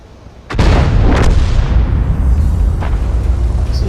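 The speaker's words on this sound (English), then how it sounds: "the noise of these boomsticks going off is very, very impressive" Tank guns firing on a video game battlefield: a sudden heavy, close boom at the start, followed by a long rumbling roar and a few fainter distant cracks beneath it.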